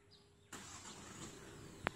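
A 2020 Hyundai Creta with manual transmission starts remotely from quiet, its engine catching abruptly and settling into a soft, steady idle heard from a short distance, with a brief sharp click near the end.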